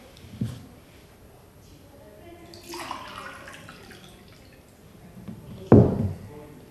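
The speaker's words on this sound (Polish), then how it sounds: "Wlewamy jedną szklankę wody." A glass of water is poured into a cooking pot in a village community-room kitchen. A soft splashing pour lasts a couple of seconds, followed by a sharp, close thud.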